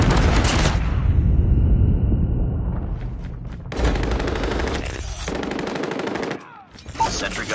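Rapid automatic fire from an M13 rifle in Call of Duty Mobile, loud and close, in long continuous bursts with short breaks, layered over explosions and game effects.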